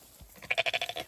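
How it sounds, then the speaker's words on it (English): A sheep on an off-grid homestead bleats once, a close, quavering call with rapid pulsing vibrato lasting about half a second. "Here's the sheep."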